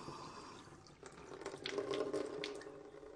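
Water runs from a tap fed by a home well pump system, a soft, steady splashing stream that swells slightly after the first second and continues alone at low volume.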